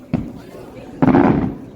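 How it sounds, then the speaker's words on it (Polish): Two booming cannon salute blasts go off in Malta, a short thud followed a moment later by a louder, longer rumbling report. "I było słychać wybuchy armat."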